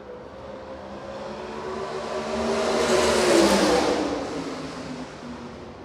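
A USAC race car on a state fairgrounds dirt mile finds the throttle after taking the checkered flag, its engine note swelling as it passes, peaking mid-way and then fading off down the track, heard alone at moderate distance.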